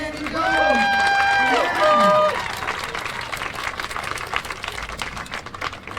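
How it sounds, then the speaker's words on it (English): Outdoor community gathering in St. Paul, Minnesota, outside the state BCA building: a voice calls out briefly, then scattered crowd clapping rises and carries on steadily to the end, moderately near. "Another round of applause for Kim Andy Jones"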